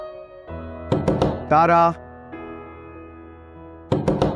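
Knocking on a door, a couple of short bursts of thuds at the start and again at the end, heard alongside a voice calling and speaking in a TV drama scene.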